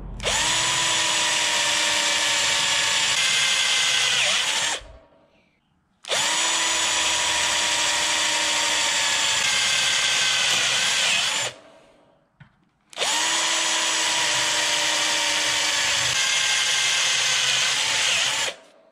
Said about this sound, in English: I am just going to drill these with the 3/16 bit